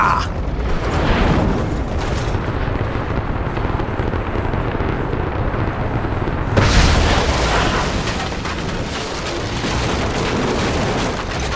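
A big explosion booms as a shot is fired at a wooden gate in Rise of the Tomb Raider: a sustained, loud, broadband roar that surges again sharply partway through, with no talk over it.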